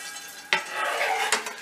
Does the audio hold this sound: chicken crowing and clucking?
no